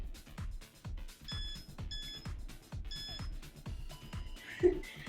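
A workout interval timer gives several short electronic beeps over the rhythmic thumping of jumping jacks, with the beeps coming in small clusters close by.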